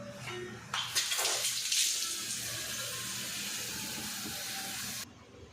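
Water pours steadily with a bright, hissing rush for several seconds, then stops abruptly, as water is set to heat on a stove; no one speaks.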